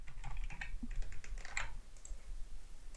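Fingers type on a computer keyboard in quick bursts of close, crisp key clicks that trail off into quiet, with no talking.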